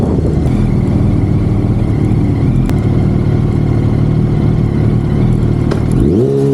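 A Yamaha R1 sport motorcycle rumbles steadily at close range on its first ride of the season, a loud, even engine drone that climbs sharply in pitch as it revs up at the end.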